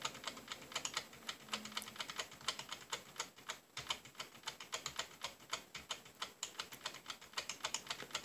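Rapid clattering keystrokes on a computer keyboard, quick and uneven in rhythm, with a brief pause partway through, close by and with no voices.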